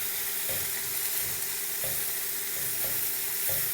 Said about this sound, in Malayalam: നന്നായി ഒന്ന് മിക്സ് ചെയ്തെടുക്കാം.